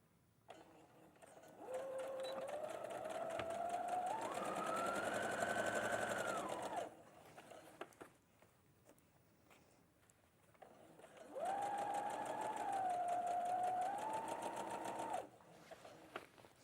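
Sewing machine stitching fabric in a sewing studio, two steady whirring runs of several seconds each with a rising and falling motor pitch, separated by a quiet pause, close and clear with no talk.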